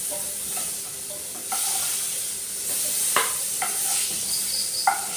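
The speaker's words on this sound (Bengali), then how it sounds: "হালকাই ভেজে নিতে হবে" Papaya pieces frying lightly in a pan give a soft, steady sizzle, with occasional brief stirring scrapes cutting through.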